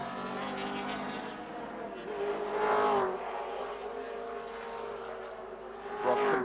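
Touring cars racing at Symmons Plains, Tasmania, in 1984, engines roaring steadily past with a swelling whine near the three-second mark and again at the end, fairly loud throughout.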